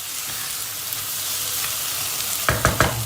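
Tomato paste, tomatoes and peppers frying in a soup pot make a continuous bright sizzle, and near the end a spoon stirs them with three quick scraping knocks, with no talking.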